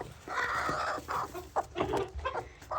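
A farm chicken clucks and squawks in agitated bursts at close range as it is grabbed from its nest for eggs.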